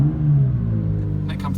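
A McLaren 570S engine starts with the push of its start button, a loud low rumble that fires up and settles into a steady idle, close up, with a voice briefly over it near the end.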